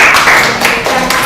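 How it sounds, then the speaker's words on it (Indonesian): A group in a classroom claps together, a loud, dense and continuous patter of applause close by. "Beri tepuk tangan buat semuanya."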